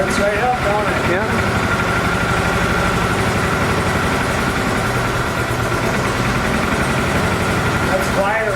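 An Argo amphibious off-road vehicle idles steadily with a welded-up muffler fitted, giving a loud, continuous, even engine rumble throughout.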